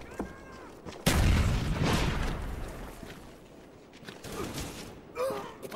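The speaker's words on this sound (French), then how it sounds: "Throwing frag." A frag grenade in Black Ops goes off with a sudden loud boom, then a rumbling tail that fades over a few seconds, with faint game sounds and brief voices afterward.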